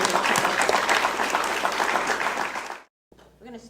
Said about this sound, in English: Let's give Katherine a round of applause and thank her for being our moderator today.